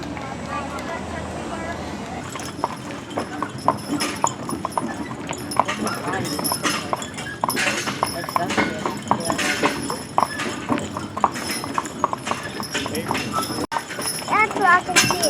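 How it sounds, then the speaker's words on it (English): Horses clip-clop at a walk along a trail on a rainy spring day, the hoofbeats steady and close under frequent conversation from riders nearby. "That's where I can see the horses better."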